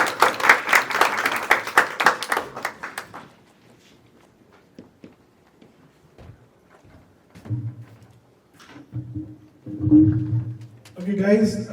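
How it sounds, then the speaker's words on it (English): A burst of audience clapping at a declamation contest lasts about three seconds and then dies away abruptly. Quiet follows, then voices speaking. "let's give a big round of applause one more time, louder"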